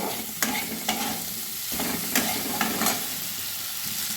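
Diced potatoes for a Bengali pumpkin chhokka are sautéed in a hot pan with a soft, steady sizzle, and a spatula scrapes and knocks against the pan several times at an uneven pace.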